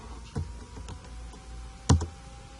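Two sharp, isolated key presses on a computer keyboard, close and fairly loud, separated by faint softer taps over a quiet room background.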